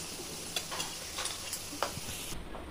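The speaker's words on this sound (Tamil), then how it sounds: "முந்திரி திராட்சை இப்ப வறுத்து போடணும்." Cashews and raisins fry in hot fat for payasam, a soft steady sizzle broken by a few sharp clinks and scrapes of a spoon stirring in the pan, with no voices.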